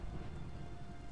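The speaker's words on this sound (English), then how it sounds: "My god, it is rainy." Steady Minecraft rain, a faint continuous hiss of falling drops with no other sounds.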